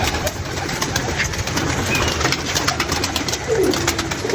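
Pigeons kept by a pigeon fancier coo softly and repeatedly, close by, their low murmuring calls continuing over a steady background hiss with no talking.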